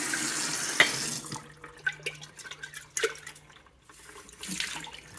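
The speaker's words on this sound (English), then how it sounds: "take the seeds out and rinse them" Cold tap water runs and splashes while sprouting seeds are rinsed in a jar, a soft trickling stream broken by brief clinks and sloshes, fairly quiet and close with no talking.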